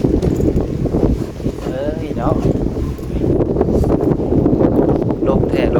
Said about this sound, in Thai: ลมแท้ลมว่า